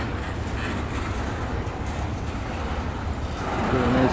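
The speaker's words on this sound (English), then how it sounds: "as the train crawls east towards that westbound that's approaching right now." An eastbound train crawls slowly along the north track at a rail yard, a steady low rumble of wheels and cars with a slight swell near the end.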